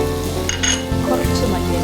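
Mint leaves dropped into a pan of tomato masala simmering in oil bring an up-close, continuous sizzle, with light metallic clinks and stirring scrapes over a constant low hum.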